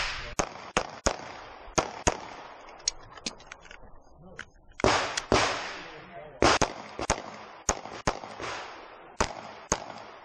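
Pistol shots ring out at an action shooting competition, sharp close cracks fired in quick bursts with short pauses between strings, each shot followed by a brief echo.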